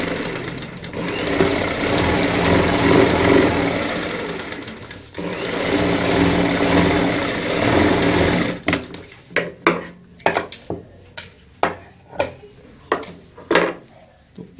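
A sewing machine stitches a zip onto a bucket stool cover, running in a loud steady whir for several seconds, then breaking into short stop-start bursts as the fabric is turned.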